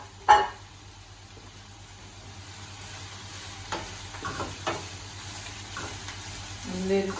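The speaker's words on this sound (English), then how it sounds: "What I am going to do is I'm going to add the mushrooms to this now" Mushrooms and onions sizzle in a pan for a mushroom stroganoff, a low steady fry with a few soft stirring knocks and scrapes mixed in.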